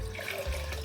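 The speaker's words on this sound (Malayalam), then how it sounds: "ആ പാത്രത്തിലോട്ട് കുറച്ച് വെള്ളം കൂടെ ഒഴിച്ച്" Water poured from a vessel into a pan that held curd, rinsing out the leftover curd for a Kerala moru (buttermilk) curry; a brief, steady splash close by with no talking.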